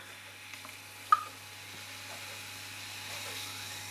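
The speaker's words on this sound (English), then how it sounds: "can you hear that fizzing away there?" A spiced, hop-free zero IBU IPA fizzes in a glass, a faint, steady carbonation hiss with a single small clink early on, quiet and close with no voices.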